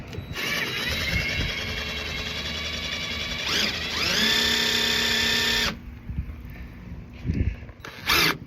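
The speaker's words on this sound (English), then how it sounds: "a pump that works off a drill" A power drill whirs steadily, rising in pitch partway through as it drives a water pump, then cuts off, leaving a few clicks and rattles.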